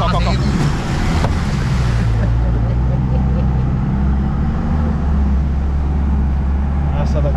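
A Jeep 4x4 off-roader ploughs through water on an off-road crossing course, giving a loud, continuous rushing wash over a deep engine rumble, with splashing close to the microphone and a person talking over it.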